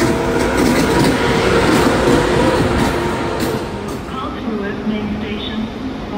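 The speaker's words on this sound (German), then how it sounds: "Ja, und das wird mein Zug." An ICE high-speed train rumbles loudly and steadily through a German station, a dense continuous roar with faint clatter throughout and a slight easing toward the end.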